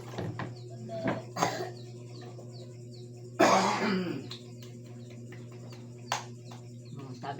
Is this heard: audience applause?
no